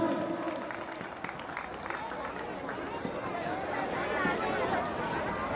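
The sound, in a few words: applause welcoming a guest at an event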